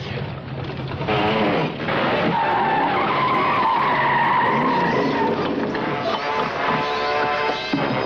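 Drag racing cars roar off the line with a long, loud tire skid and squeal layered over rough engine noise, the screeching holding for several seconds in a dense, close-up burst.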